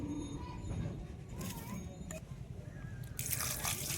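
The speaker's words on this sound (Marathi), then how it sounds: "4-5 पाण्यानं धुवून घेऊ।" Small fish being washed by hand in a bowl of water, with a few short splashing sloshes over a steady low background rumble.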